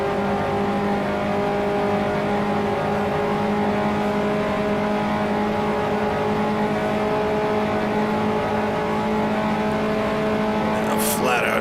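A racing car engine holds full throttle in a loud, sustained, steady drone with a constant high pitch near the end.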